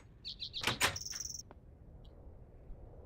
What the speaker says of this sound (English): The sound with that door opening and closing sounds doubled.